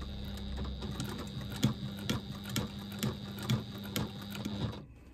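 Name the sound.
sewing machine doing a lock stitch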